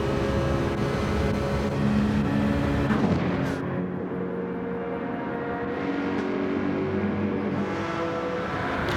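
Racing car engines in a league race in a racing video game, three cars running close together. A steady, loud droning roar holds throughout, with a brief passing swell near the middle.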